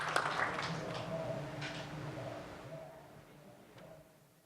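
An audience at a business investment forum claps for the vice-governor, a faint, dense patter of applause that thins and fades away over a few seconds.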